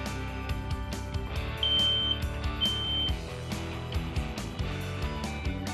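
A smoke detector under test gives two short, high electronic beeps, partly masked by dense background music.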